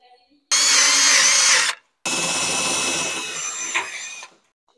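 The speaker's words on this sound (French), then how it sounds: "je viens les visser pour les relier entre eux" A screwdriver drill drives screws through metal drywall studs to join them while a plasterboard lining wall goes up, two loud whirring bursts separated by a short pause, close by and with no talk.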